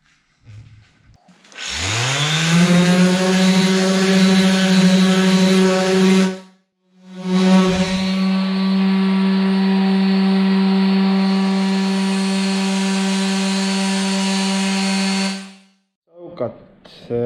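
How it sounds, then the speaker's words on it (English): A loud, steady power-tool whine from a sander on a rusty Volkswagen Transporter rear door runs for several seconds, stops briefly, then resumes and continues before cutting off. "Back to sanding the other door."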